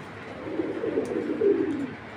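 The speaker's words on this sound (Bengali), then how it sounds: "এক হাতে সাইজের কবুতরটা দেখেন" A large male Army pigeon gives a soft, low rolling coo close by, a single drawn-out murmuring call that swells toward the end against quiet background hiss.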